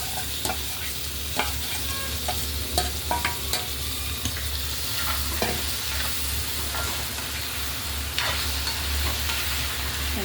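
Paneer and green peas being stirred in a frying pan, a steady sizzle of frying beneath repeated scraping and clinking of the spoon against the pan, close and continuous.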